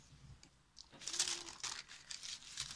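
Old waxed baking paper being handled and crinkled, giving faint, close crackling and rustling in irregular bursts that grow busier after the first second, with no talk.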